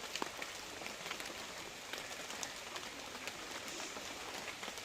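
Steady light rain pattering on a surface, with scattered drips and a faint distant bird now and then; quiet and continuous, no voices.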